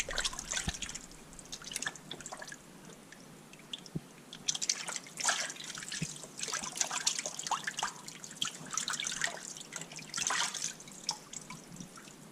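Salted Arctic char being rinsed in water, with irregular splashes, drips and trickles close by, swelling into bursts of sloshing and then easing, with no talking.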